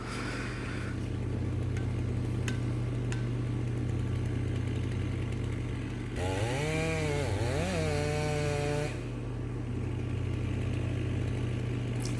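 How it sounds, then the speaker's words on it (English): A chainsaw runs steadily while cutting down a tree for lumber for a horse barn build, its engine droning throughout, revving and bogging as the bar works through the trunk midway before settling back. "Looks like he may have the saw hung just a little bit there."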